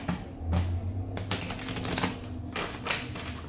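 Several quick bursts of papery riffling, like cards being shuffled up close, with brief pauses between, over a faint low hum.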